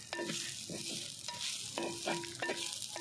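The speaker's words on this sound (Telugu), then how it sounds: "మునగాకు అయితే కొంచెం ఫ్రై అయిందండి, ఇంకా ఫ్రై కావాలి." Drumstick leaves fry quietly in a pan, giving a faint, soft sizzle with several brief scraping stirs and a few light clinks.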